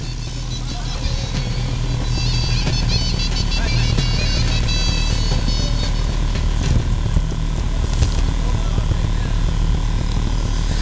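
A tractor engine runs steadily throughout at a tractor disc competition, a loud continuous low rumble with a raspy mechanical edge, with voices over it.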